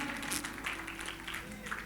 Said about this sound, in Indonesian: Tepuk tangan saudara untuk saudara-saudara.